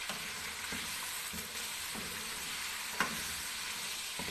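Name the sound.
chicken jalfrezi ingredients being stirred and frying in pan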